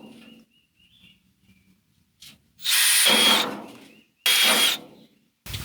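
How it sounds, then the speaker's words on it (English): Power drill boring holes through a mounting box for a furnace, two loud bursts of drilling about a second long each, close up, with quieter handling noises and faint birdsong in between. "So I'm going to go ahead and drill 2 here and 2 here."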